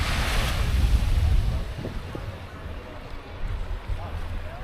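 Steady rushing surf from ocean waves on a beach at a Koh Chang campsite fills the air, mixed with gusty wind buffeting the microphone.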